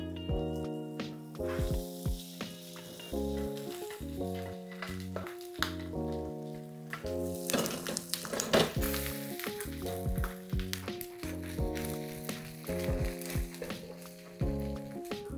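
Bangus (milkfish) sisig fries in butter in a hot cast-iron skillet, giving a steady sizzle with occasional stirring crackles under rhythmic background music.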